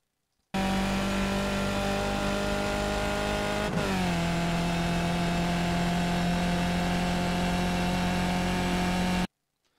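Race car engine in the iRacing sim at Sebring, a loud continuous droning hum that holds steady, dips in pitch once as if shifting gear, then carries on until cut off.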